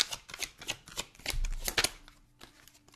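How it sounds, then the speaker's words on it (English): A deck of tarot cards is shuffled by hand, a quick run of soft riffling flutters and slaps, close and fairly quiet with no talk. "I shuffled this deck a lot."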